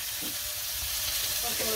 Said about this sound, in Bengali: এই আলু সেইছে পাটায় তারপরে হলুদ মরিচ পেঁয়াজ দিয়ে সব কিছু দিয়ে বড়া ভাজনো বড়া ভাজব